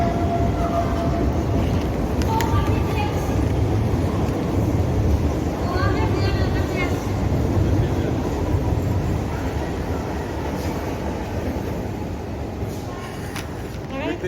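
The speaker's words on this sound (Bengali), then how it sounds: "ওপর দিয়ে আওয়াজ ট্রেন যাচ্ছে ওপর দিয়ে ট্রেন যাচ্ছে" A train rumbles across the rail bridge overhead while the listener stands in a concrete-walled railway underpass on the Katwa line near Bandel; the heavy, steady roar fills the space throughout and eases slightly toward the end, with a voice talking over it.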